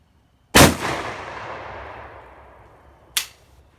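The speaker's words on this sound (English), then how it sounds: "We'll see how it shoots with the gas system choked all the way down." A DDI-12 shotgun loaded with Remington double aught buckshot fires one loud, sharp shot outdoors that echoes away for a couple of seconds, then a second, quieter and shorter report follows.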